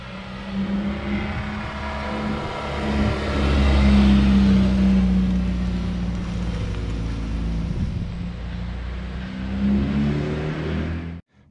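A Volkswagen Passat GTS Pointer with the AP 1.8 engine and about 11,000 km produces a loud, steady engine drone that swells around the fourth second, then holds level before cutting off abruptly at the end. No voices are heard.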